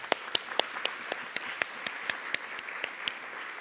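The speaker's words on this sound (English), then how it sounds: "maybe if we could just do a big round of applause for all of us" A conference audience claps in a sparse, fairly quiet round of applause, individual sharp claps standing out at a brisk, regular pace over a softer bed of scattered hands.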